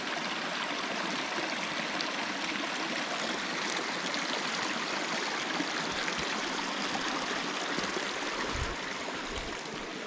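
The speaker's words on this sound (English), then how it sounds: "Oh, there's a little waterfall up there." A small waterfall on a hiking trail gives a soft, continuous rushing and trickling wash that holds steady throughout, faint and somewhat distant, with a few low bumps near the end.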